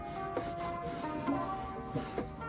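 A cloth rubs and polishes a new parking brake boot on a BMW E90/E92/E93. Soft, quiet, close rubbing strokes repeat about every half second with faint scraping accents.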